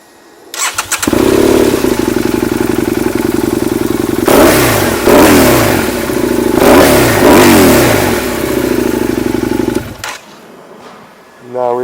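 Stationary motorcycle engine idling loudly up close, then revved several times in rising surges before settling and cutting off near the end.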